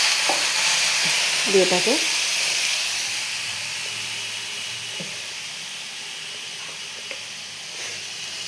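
A little water splashed into spices frying in a pan makes a loud hissing sizzle and steam burst that fades to a quieter, steady simmering hiss after a few seconds, while a voice speaks briefly early on.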